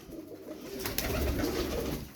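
Caged pet pigeons coo in soft, low, throaty murmurs close by, steady and overlapping, with a few light rustles.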